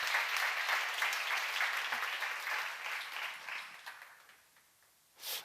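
A church congregation at a seminar applauds, with dense clapping that is strong at first and then gradually fades to near silence, ending with a brief louder burst.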